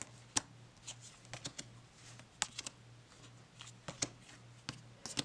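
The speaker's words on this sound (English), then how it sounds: "It's very flexy, easy to shuffle." Thin, flexible cardstock tarot cards are shuffled by hand in sharp, irregular riffling snaps and taps, faint and close against a quiet low hum.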